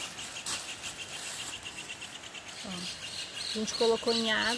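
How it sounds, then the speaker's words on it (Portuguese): Small birds chirp and sing outdoors beside a river, quick bright calls repeating in the background with a few clearer warbling phrases near the end, while a person speaks over them. "Olha os passarinhos cantando, coisa linda."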